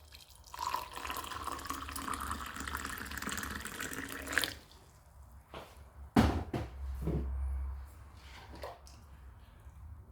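Hot water pours into a cup for tea in a home kitchen, a steady splashing stream for about four seconds, followed by a few faint clinks and soft handling sounds.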